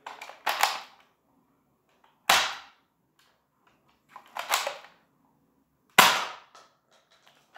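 A modded 3e Elite 2.0 toy blaster fires four sharp, snappy shots with pauses of about a second and a half. Each shot is close and loud with a short rattling tail, and no one talks.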